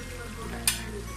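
Chicken pieces frying in hot oil for a restaurant-style chicken fry, a steady close sizzle throughout with one brief sharper crackle near the middle, no voices.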